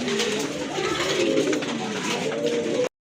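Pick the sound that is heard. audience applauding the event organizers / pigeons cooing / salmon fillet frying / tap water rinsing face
pigeons cooing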